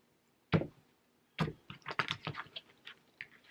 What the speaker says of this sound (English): I gotta shuffle until I'm hearing it